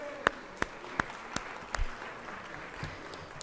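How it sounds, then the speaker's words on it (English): Sparse, isolated claps in a legislative chamber welcoming gallery visitors, a handful of sharp slaps at irregular intervals over a quiet room, fading out. "Y'all please give them a round of applause for being here today."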